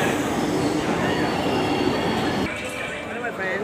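A train rumbles and rolls steadily through Mathura Junction railway station, a loud continuous roar of wheels on rails with faint squealing that eases slightly near the end.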